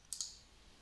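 A computer mouse clicks while a CSV file is saved in a spreadsheet program, giving two quick, faint clicks close together in a quiet room.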